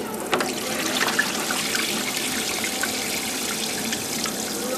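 Rice being rinsed by hand in water, a steady close trickling and sloshing of liquid that runs continuously without pause.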